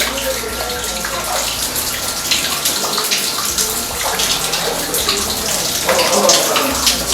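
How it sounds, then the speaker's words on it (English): Water falling and splashing out of the rock inside an underground gold mine, a loud, close, continuous trickling and pattering spray like a running tap, with faint voices in the background. "We also have some traces of water falling out of the rock."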